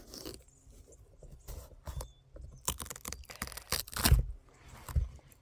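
Knife cutting through a large, overgrown Armenian cucumber, a few scattered crunching and scraping knocks with one heavier thud near the end, close and fairly quiet.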